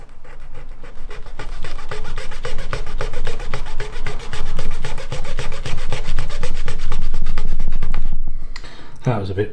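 Rapid, steady back-and-forth rasping of a coarse Tamiya sanding stick on a Harrier scale model, continuous for several seconds, then stopping with a brief clatter.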